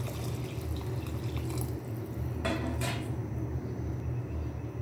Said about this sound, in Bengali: এবং পরিমাণ মতো পানি দিয়ে দিব।